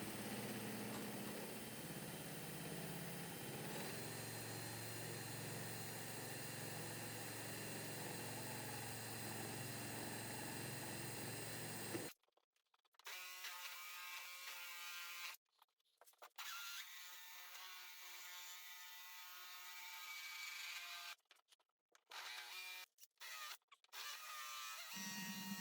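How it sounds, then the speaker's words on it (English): A drill fitted with a small bit carves wood into kitchen utensils, a steady motor whine with shifting grinding tones that starts and stops in bursts, close and fairly loud with no talk. "here's a shot of the bit working in real time if you're curious how fast it can remove material"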